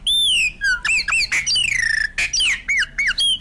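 A nest-parasitic bird calls in a rapid series of loud, close squawks and sharp chirps with rising and falling whistled notes, heard alone without other sounds.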